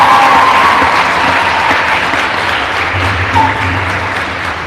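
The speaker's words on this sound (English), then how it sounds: "let's give the debaters another round of applause" An audience at an inter-secondary school debate final applauds the debaters, a dense, sustained wash of clapping from a full room that gradually thins out over a few seconds.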